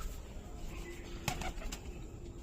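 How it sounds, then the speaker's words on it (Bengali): A Madras pigeon landing, giving a short burst of wing flaps partway through against a faint, steady background hum, quiet and brief. "এই দেখো এটা ম্যাড্রাস পায়রা বসছে আবার"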